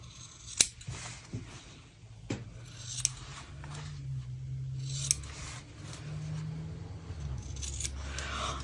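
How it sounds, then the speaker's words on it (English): Scissors trim excess fabric at sewing corners, giving a handful of sharp, close snips spaced irregularly over soft rustling of the cloth being handled. "cut off all the excess on the corners so that it sits nicely"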